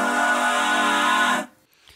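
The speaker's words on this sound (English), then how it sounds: "I highlight that diminished chord with one of my favorite vocal stacks that I love to do, which is building up diminished intervals" Breathy stacked vocals build up diminished intervals over a diminished chord, a sustained layered chord held loud and steady for over a second before cutting off abruptly into near silence.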